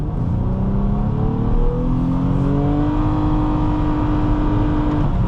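A 2011 Nissan Maxima SV accelerating hard with the pedal floored, its engine droning loud and steady from inside the cabin as the pitch climbs gradually toward redline.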